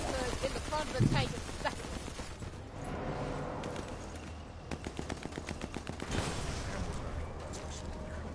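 Sniper Elite 4 gunfire aimed at a tank: a short sharp burst early, then rapid clusters of shots and a rattling machine-gun run in the latter half, over battle noise and a player talking.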